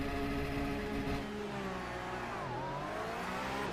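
Porsche race car engines in a racing game rev hard at the race start, a dense, sustained whine with pitch sweeping down and climbing again, loud and continuous with no talk.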